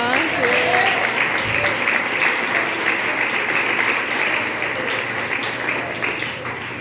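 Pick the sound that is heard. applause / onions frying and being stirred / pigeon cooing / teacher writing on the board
applause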